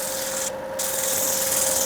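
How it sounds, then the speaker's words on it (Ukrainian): A machine sander works a wood inlay surface with a steady close abrasive rubbing hiss over a constant motor hum, briefly dipping before resuming. "так все шліфується, шліфується, поки не буде така гладенька поверхність"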